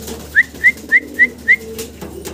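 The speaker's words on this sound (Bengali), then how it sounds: "অসাধারণ সুন্দর এক পেয়ার শেখর কবুতর" A pair of Shekhar fancy pigeons at a pigeon seller's gives five short, bright chirps evenly spaced over about a second and a half, close by, with a faint low hum behind and no talking.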